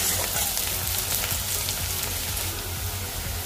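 Onions frying in oil in a home kitchen pan, browning while cooking cauliflower-potato masala: a close, continuous crackling sizzle with faint stirring scrapes, steady throughout with no talk.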